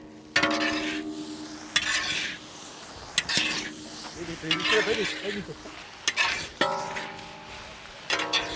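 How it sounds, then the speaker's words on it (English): Spatula scraping and stirring shrimp fried rice with spices in a pan, a few distinct scrapes and clinks with soft sizzling between, under a nearby voice. "Mix well."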